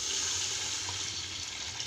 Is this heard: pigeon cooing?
no